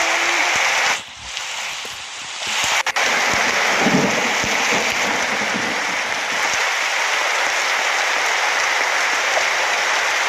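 Steady, dense rain in the video game 99 Nights in the Forest hisses continuously throughout, a broad wash of falling water with a brief dip near the start.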